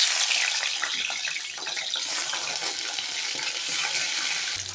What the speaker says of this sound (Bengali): তেলটা গরম হয়ে গেলে মাছগুলো দিয়ে দিচ্ছি।